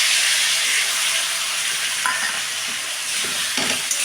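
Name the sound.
cauliflower frying with mustard-poppy seed paste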